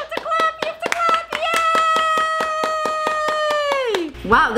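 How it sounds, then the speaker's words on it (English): Sharp, regular hand claps from a small group ring out close by for a pet parrot, under a sustained high cheering voice that drops away near the end. "You have to clap, you have to clap"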